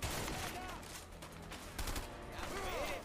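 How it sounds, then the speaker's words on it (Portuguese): Bursts of gunfire from a shootout in the video game A Way Out, loud and dense, overlapping in quick rapid volleys across the whole moment with a voice briefly audible. "Tá atirando em tu."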